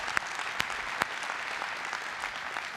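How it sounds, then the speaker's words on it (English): Conference hall audience at DockerCon applauding, a steady wash of many hands with a few louder nearby claps, moderately distant. "can I get another round of applause for Aaron?"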